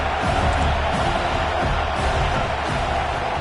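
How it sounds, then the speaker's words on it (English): A football stadium crowd roars loudly and continuously, a thick wall of cheering with no breaks. "this crowd is turning it up a notch"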